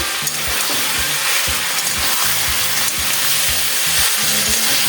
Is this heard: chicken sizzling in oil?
yes